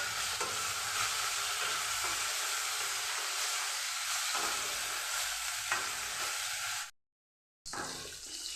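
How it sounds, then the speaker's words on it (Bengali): Chopped onions fry for a fish curry in a pan, a steady, dense sizzle running unbroken for several seconds, then a brief silence before the hiss resumes. "দিয়ে দিচ্ছি পেঁয়াজ কুচি"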